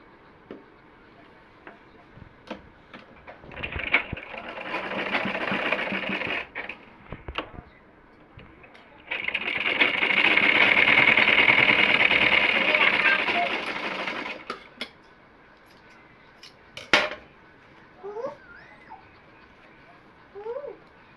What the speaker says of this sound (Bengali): অপর সাইডেও আর একটা কাপড় দিয়ে সেলাই করে নিই